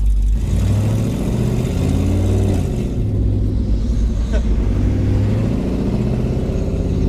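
A car engine revving with the windows down, making a loud, continuous droning roar that rises and falls, with excited voices talking over it.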